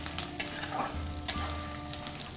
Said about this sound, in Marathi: तर त्यासाठी गॅसची फ्लेम कमी करायची आणि चांगला कढीपत्ता परतून घ्यायचा.